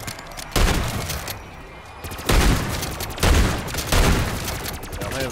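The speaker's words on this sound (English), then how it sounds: "I'm having fun with the shotgun, that's why I use the big boom gun here" Several loud shotgun blasts boom in a video game at roughly one-second intervals, each a sharp full-band crack with a decaying tail, over continuous game background noise.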